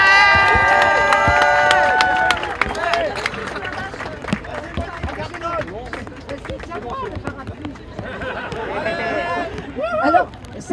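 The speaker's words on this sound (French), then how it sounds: "applaudissez-les bien fort" A crowd at a Nuit debout rally in Paris breaks into loud cheering and applause, then a voice speaks over the fading claps, and a second burst of cheers and clapping follows near the end.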